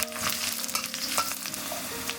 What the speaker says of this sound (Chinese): 锅中放适量油，放入蒜片、干辣椒下去翻炒